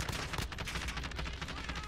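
Kilo 141 assault rifle firing in a shooter video game, rapid repeated shots forming a dense fusillade over the full stretch, fairly loud and close.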